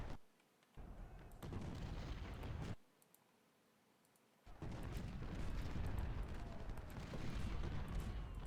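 Artillery bombardment in the Ultimate General Civil War game: sustained dense rumbling cannon fire with crackling bursts, broken by a quiet lull in the middle before heavy firing resumes and continues to the end.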